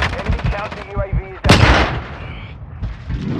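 Video game gunfire in rapid cracking bursts, with a loud sharp blast midway and further shots trailing after, close and loud, with excited voices talking over the early part.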